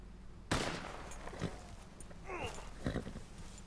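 A sharp gunshot bursts out, then a few fainter shots and thuds, mixed with in-game voices and background noise during a Red Dead Redemption 2 shootout.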